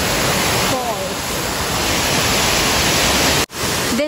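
The first waterfall at Ng Tung Chai on Tai Mo Shan, Hong Kong, roars loud and close as a constant broadband rush of falling water. It cuts out abruptly for a moment near the end, and a voice is faintly present.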